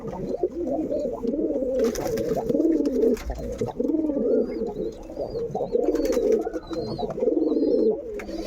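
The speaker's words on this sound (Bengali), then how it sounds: "অনেক পায়রা আছে।" Pigeons cooing close by in a loft with several birds, repeated low rolling coos in a steady rhythm, with faint chirps and light rustling above them.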